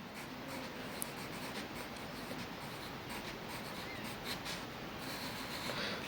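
Pen or pencil writing by hand on paper, a steady continuous scratching close by, faint and even throughout with no voices.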